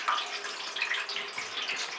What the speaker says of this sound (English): best we chuck some water in there and see what happens